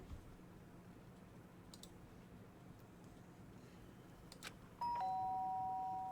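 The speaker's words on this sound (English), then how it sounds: "The sharp sound of the doorbell pierced my sleepy haze and pulled me back to the real world." A doorbell in the video game Danganronpa: Trigger Happy Havoc sounds once near the end of a quiet stretch, a clear two-tone chime that rings out and lingers after a few faint clicks.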